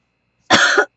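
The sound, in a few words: man coughing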